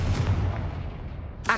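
A Confringo blasting spell in Hogwarts Legacy bursts as a heavy, close boom that rolls into a fading low rumble, cut off by a short sharp sound at the end.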